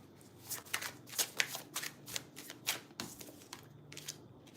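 Tarot cards being shuffled by hand in a run of quick, crisp riffling bursts, close and fairly quiet, with brief pauses between shuffles and no talking.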